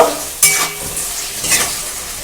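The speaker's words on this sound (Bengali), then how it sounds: "বাটা মশলাটা এই আলুর সঙ্গে টমেটোর সঙ্গে ভালো করে কষে নেব" Ground spice paste frying with potato and tomato in a pan, a loud close sizzle broken by a few scraping stirs of a spoon, with no voices.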